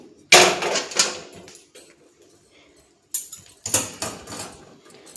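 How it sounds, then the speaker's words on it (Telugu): A pan set down on a stove, with two bursts of sharp metallic clatter and clinks separated by a quiet pause, close by and with no talk. "ఇవన్నీ స్టవ్ ఆన్ చేసి పెన్నం పెట్టుకొని"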